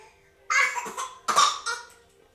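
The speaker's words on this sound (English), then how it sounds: "Or you could do a fake cough." Two short, breathy coughs, close and fairly loud, with a forced, staged quality.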